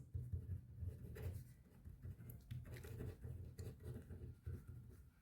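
A pen scratching across paper in short bursts and strokes, close and quiet, written out by hand for a math exercise.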